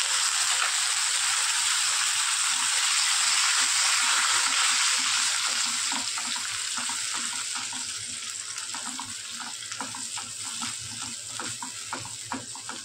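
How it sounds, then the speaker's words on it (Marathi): Ginger-garlic paste and tomato puree sautéing in a pan for a white radish dish, a steady loud sizzle that eases off as stirring begins, with soft scraping strokes repeating near the end. "सगळं छान परतून घेऊ."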